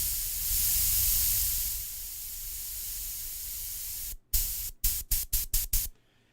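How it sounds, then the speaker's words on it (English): An airbrush gun fitted with an air regulator gives a steady, close hiss of spraying air for several seconds, then stops and restarts in a run of short, sharp bursts as the air is cut off and let through. "that sound is me working with my regulator"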